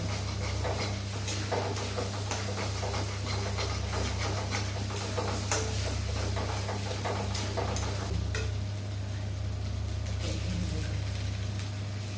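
Bitter gourd frying in a pan in a home kitchen, a steady, moderately quiet sizzling hiss that continues unbroken throughout with faint stirring, no voices.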